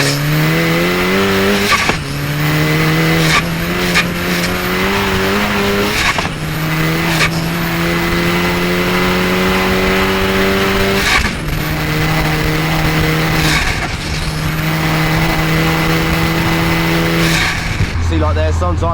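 A 450hp VW Caddy with a swapped 2.0 TFSI engine accelerates hard on a street, its loud engine note climbing through several gears with brief dips at each shift and a tire chirp near the end, while someone talks over it.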